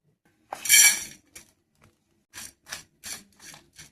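Poppy seeds, dried chillies and cardamom dry-roast in a pan without oil, giving a loud opening scrape followed by several short, separate rustling scrapes as they are stirred, with quiet gaps between.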